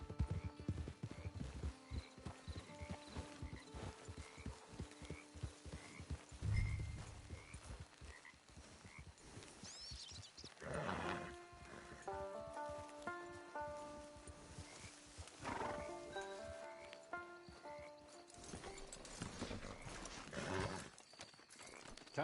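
In the video game Red Dead Redemption 2 Online, a ridden horse's hooves clip-clop in a steady rhythm over ambient outdoor sounds, with tonal musical notes layered over the later part and no talk.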